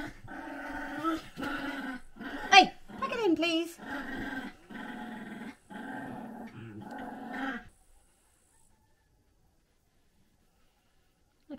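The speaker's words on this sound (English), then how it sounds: "Dogs are playing on the bed, sorry." Dogs playing and growling on a bed, with rough growls and yips running through the first seven or so seconds while someone speaks over them, then silence.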